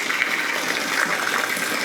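Wort gushes from an opened valve into a fermenter, a constant, close, hissing splash of liquid that holds even throughout the short moment.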